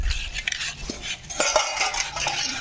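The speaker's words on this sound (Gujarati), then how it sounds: "કેવા વાસણ ઉટકે છે" Dishes and cutlery being scrubbed and rinsed, with clattering metal utensils, scraping strokes and clinks in an irregular rhythm at close range, without voices.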